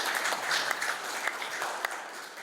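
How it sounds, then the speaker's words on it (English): An audience at an art panel in Mahon Hall claps steadily for the full stretch, a dense, even patter of hands with a few sharper claps standing out. "You may applaud."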